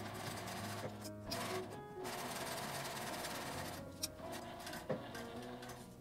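Sewing machine stitching fabric and urethane foam for a soft phone holder, a quiet, steady rapid mechanical whir with brief pauses and a couple of small clicks, close-miked with no speech.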